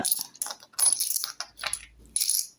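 Coins clinking as they are handled and dropped into a budget envelope, a quick series of close metallic jingles and taps with short gaps.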